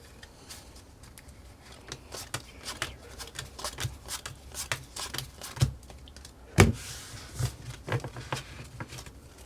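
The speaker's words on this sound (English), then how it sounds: "Hand the deck of cards to the spectator, have them pick any 9 cards at random." Playing cards are handled and picked from a deck for a self-working card trick, giving soft close-up riffling and scattered snaps, with one sharper slap partway through, alone and quiet.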